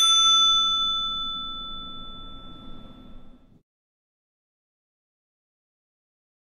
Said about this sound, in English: If your bell doesn't ring, simply adjust the position so the arm is well aligned to hit the bell.